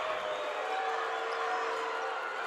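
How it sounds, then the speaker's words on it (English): Kanab fans in a packed gym for a 2A boys basketball championship against Parowan roar steadily in protest after a goaltending call, a dense, continuous crowd din with no pauses. "The Kanab crowd letting them hear it."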